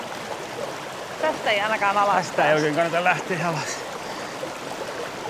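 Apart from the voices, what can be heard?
clear blue mountain river flowing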